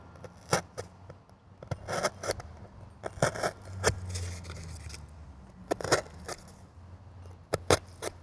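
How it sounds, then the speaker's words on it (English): An X-Acto knife cutting a Kumihimo disk out of card gives close, sharp scratchy slices and rasps in irregular bursts, with quiet handling between cuts and no talk. "now we're going to take our X-Acto knife and we're going to carefully"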